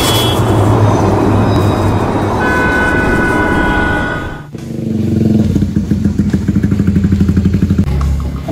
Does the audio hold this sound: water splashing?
no